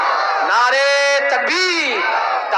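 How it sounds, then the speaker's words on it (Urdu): A crowd at an Islamic religious gathering chants the takbir slogan together, many voices rising and falling in a loud, sustained unison shout that swells twice over a couple of seconds. "ذرا دونوں ہاتھ اٹھا کے نعرہ لگائیے سارے آدمی"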